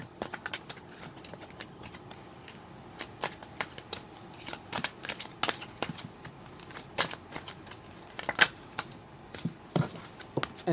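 Tarot cards shuffled and handled up close, with a steady run of crisp riffles, flicks and slaps, busy and irregular throughout.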